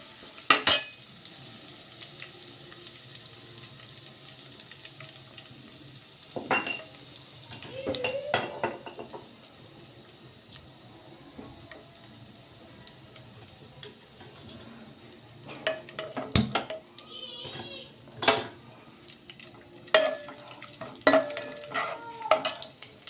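Garlic frying in a pan while fish curry is being cooked, with intermittent stirring, spatula scrapes and clinks against the pan over a faint, steady sizzle, moderately close.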